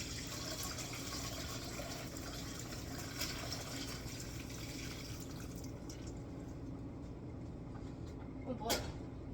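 Chicken soup broth pours through a strainer into a bowl as a steady, continuous rush of liquid, close and moderately loud, ending in a few splashes and drips near the close.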